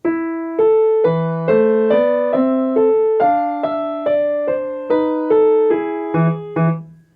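Piano notes flow one into the next in a smooth, connected line, about a dozen evenly paced tones with no gaps and no voices.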